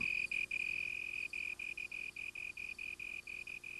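A slender tree cricket chirping, a steady, evenly pulsed high trill repeating with short gaps, fairly faint and alone.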